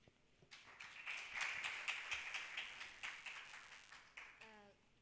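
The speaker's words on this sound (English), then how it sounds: "Round of applause to her." At a campaign launch, the audience breaks into a round of applause that swells into dense clapping and then tapers off, heard from a distance, before a voice begins to speak at the end.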